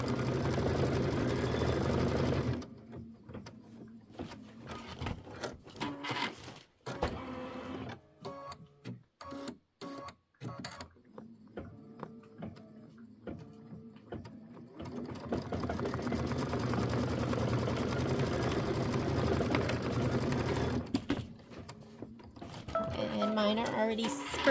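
An embroidery machine stitches satin stitches for a small quilt block, a loud rhythmic mechanical whirring at the start and again through the latter half, with quieter handling noises and a voice talking in between.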